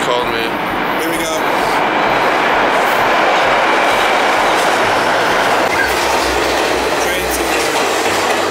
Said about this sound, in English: it looks like the train's coming